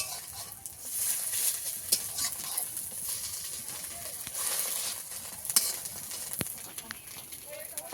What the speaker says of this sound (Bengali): ডিমটাকে ভালো করে ভেজে নেব